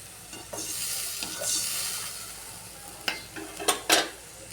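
Fish curry with onion paste simmers and sizzles in a pan as a spoon stirs, with steady frying hiss and a few sharper scraping strokes toward the end, close by and without speech.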